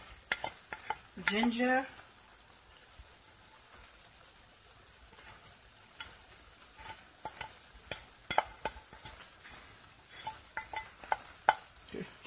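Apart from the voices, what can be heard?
husband mixing eggs with spices for Tunisian ojja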